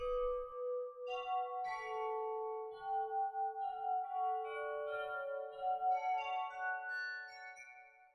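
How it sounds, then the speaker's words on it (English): Soft, ringing mallet tones from a 1985 toy xylophone sample with long release, in a slow, wandering melody, each note sustaining and fading gently into the next with a bell-like shimmer. "Almost haunted bells."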